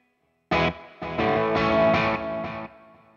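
An electric guitar plays a few strummed chords through a NUX Trident multi-effects unit set to reverb into delay, each chord ringing out and fading with a washy trailing tail.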